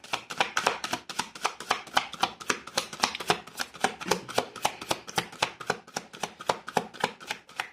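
A deck of tarot cards is handled and cut, giving a close, steady run of crisp, rapid card taps at an even rhythm, with no talking.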